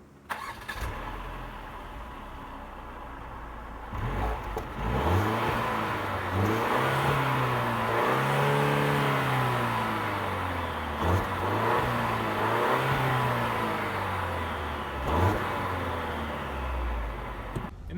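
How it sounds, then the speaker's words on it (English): A 2020 Mercedes-Benz GLC 300 engine starts and settles into idle, then takes a few rising and falling revs. The sound is moderately close and fairly muted, with steady engine hum between the revs. "we'll get a little bit of a start up and a couple of revs"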